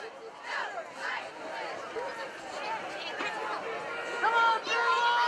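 Crowd noise from spectators at a Thanksgiving high school football game in Algonquin, a steady murmur of chatter and raised voices building across the stands, with occasional louder shouts rising over the din.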